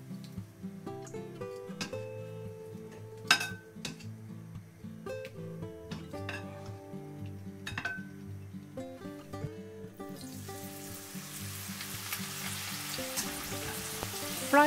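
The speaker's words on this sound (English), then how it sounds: "Dip each leg in the batter and fry them in the same oil as the shallots." Batter-coated chicken legs deep-frying in hot oil, a steady dense sizzle and bubbling with small pops and occasional clinks throughout, close and alone, growing louder and hissier toward the end.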